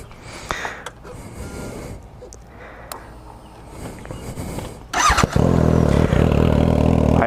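A Suzuki GSX-S750 motorcycle is started up: some faint handling noises first, then the engine cranks and catches, settling into a loud, close, steady idle.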